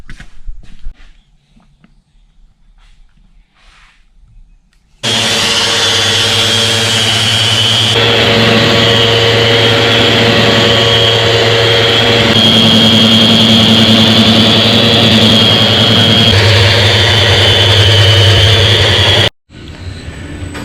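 A power sander runs on a cured white resin pour, bringing it to 100 grit: after quiet handling noises, a loud steady motor whine holds for about fourteen seconds before cutting off abruptly.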